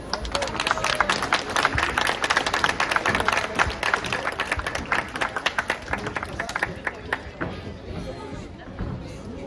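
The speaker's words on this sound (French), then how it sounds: "Vous pouvez applaudir nos enfants." Audience applauding children at a Kyokushin karate demonstration, a dense burst of clapping with crowd chatter mixed in that thins out toward the end.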